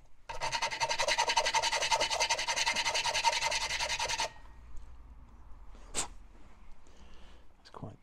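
Coarse metal sandpaper fixed to a bench rasps rapidly back and forth against a metal lifting lug from a 1/6 scale Armortek Hetzer tank model, loud and close for about four seconds, then stops, followed by quieter handling noises and a brief sniff.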